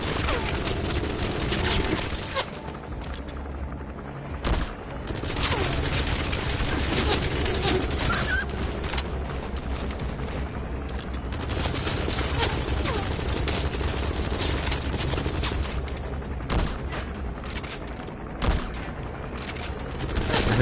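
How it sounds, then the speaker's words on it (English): Sustained automatic gunfire from an enemy gunship in Metal Gear Solid V rattles almost continuously for about twenty seconds. Dense bursts are layered over a deep rumbling drone, with brief gaps and heavier booming hits. "That's an enemy gunship."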